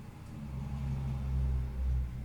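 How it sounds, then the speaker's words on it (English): Cars passing on a main road, heard as a low, steady rumble from outside that swells and fades as vehicles go by, with no talking. "if you hear cars passing by and stuff"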